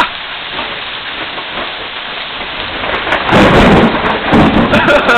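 Steady heavy rain pours down, with rolling thunder swelling loudly midway and lingering to the end, no voices present.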